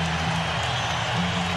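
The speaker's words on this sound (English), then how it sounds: "Crowd on their feet calling for defense" Basketball arena crowd on its feet during a 1997 Sonics at Rockets playoff game, a steady loud roar of chanting and cheering for defense filling the whole moment without pause.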